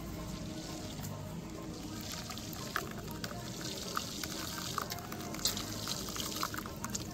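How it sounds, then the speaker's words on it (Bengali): Mango pulp strained through mosquito net cloth, giving a steady wet trickle and soft dripping with faint squelchy rubbing, close and continuous without talk. "মশারির মধ্যে আমি আম গোলাটা দিয়ে দিব। খুব ভালো করে আমি এটাকে ছেঁকে নিব"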